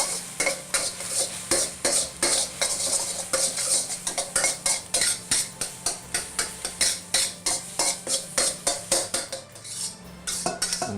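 Egg being scrambled in hot oil in a wok for pork fried rice: a quick, steady run of metal spatula scrapes and clacks against the pan over a soft sizzle, close and without talk.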